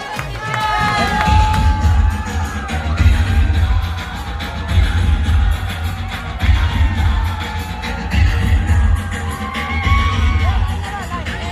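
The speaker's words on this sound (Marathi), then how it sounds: "टाळ्या झाल्या पाहिजे कोकण सुपुत्रासाठी." A Dahi Handi festival crowd cheering, whooping and shouting for the Kokan Suputra Govinda troupe, loud and close over thumping DJ music with heavy rhythmic bass.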